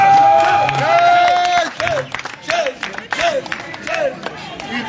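A crowd at an evangelism revival claps and cheers in a sustained burst, with a loud amplified voice and a tonal musical line carrying over the applause.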